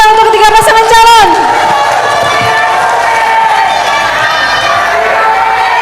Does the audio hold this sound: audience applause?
yes